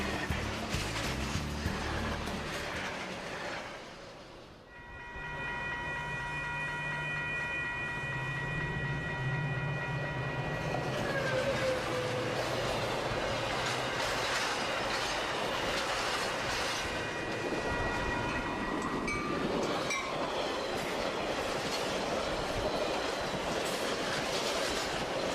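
Metra commuter trains on the BNSF line rushing past, a loud steady roar of wheels and rail noise with tonal horn or whistle notes and a brief lull between passing trains.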